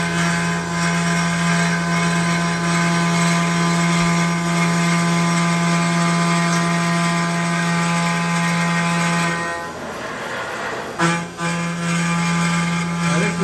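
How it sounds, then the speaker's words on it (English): A milling machine, run by hand, cuts an intake manifold for a new engine with a loud, steady high-pitched whine that briefly drops and shifts, then resumes. "Just me running the machine manually by hand here."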